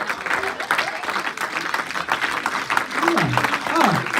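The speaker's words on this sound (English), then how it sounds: "Oh, now he's clapping." Clapping at a Bible study gathering, scattered uneven handclaps under ongoing talk, with a few voices sliding in pitch near the end.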